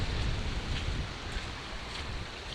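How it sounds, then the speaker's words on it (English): Steady wind buffets the microphone outdoors on a beach, giving a continuous broadband roar with low rumbling gusts throughout. "It's a little more windy."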